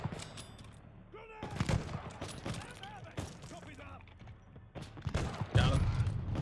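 Gunfire in the Call of Duty Vanguard campaign: scattered shots and bursts break out over a busy battle bed, with voices shouting between the cracks and a heavier volley near the end.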